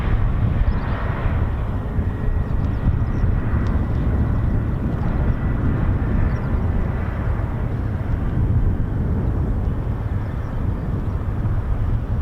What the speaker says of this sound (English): Boeing KC-46 Pegasus.